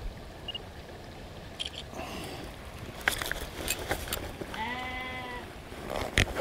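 A sheep bleats once, a wavering call in the open countryside beside a river while fly fishing, heard mid-distance against wind and outdoor rustle with a few faint clicks around it.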